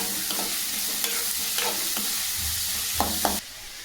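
Green chillies with onion and mustard seeds frying in a pan, a continuous close sizzle with a few quick scraping stirs, fairly loud, then the hiss drops away abruptly near the end.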